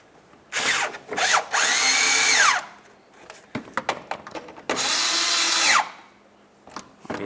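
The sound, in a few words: power drill tightening fog light mounting bolts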